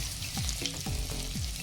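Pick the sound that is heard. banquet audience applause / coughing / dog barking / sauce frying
sauce frying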